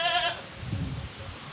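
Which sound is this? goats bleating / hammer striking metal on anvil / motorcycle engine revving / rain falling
goats bleating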